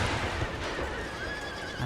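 Horses neigh and whinny during an Empire: Total War battle, a loud shrill cry rising over dense battle noise and a low rumble of hooves, close and continuous for about two seconds.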